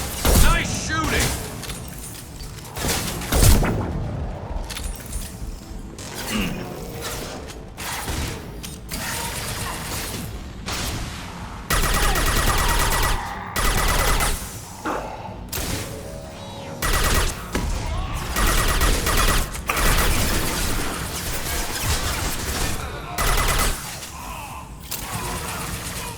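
Bursts of rapid gunfire and weapon mechanisms in the video game Mass Effect 2, loud and irregular with clattering reloads, under occasional voices.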